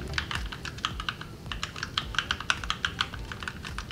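Rapid, crisp keystrokes on a compact Cougar Puri Mini RGB gaming keyboard with Gateron Red switches, an irregular stream of close clicks and clacks heard alone with no talking.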